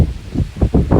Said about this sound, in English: So, it's getting windy as well.